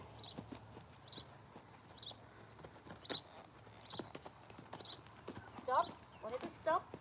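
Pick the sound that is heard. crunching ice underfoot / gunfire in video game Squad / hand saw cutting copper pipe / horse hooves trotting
horse hooves trotting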